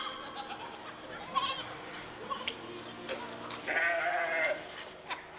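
A person mimics a goat, producing wavering nasal bleats. The bleats rise over a murmur of other voices, with a louder, drawn-out bleat near the end amid light laughter.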